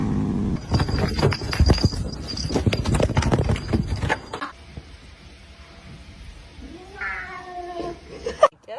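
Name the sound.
cat meowing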